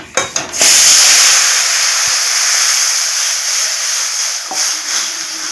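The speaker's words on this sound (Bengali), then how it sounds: "সুজিটা খুব সুন্দর করে ভেজে নিয়েছি এখন আমি দিয়ে দেব জল" Water poured into a pan of roasted semolina for a Bengali sooji dish sets off a loud, sustained steam hiss that starts abruptly after a few clatters and stays strong for several seconds, alone without talk.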